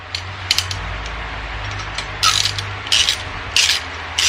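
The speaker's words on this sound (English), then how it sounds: "The socket and the ratchet." A socket ratchet clicks while it tightens exhaust screws on a Harley-Davidson Ultra Classic, in several short close bursts of rapid pawl ticking over a low steady background hum, with no talk.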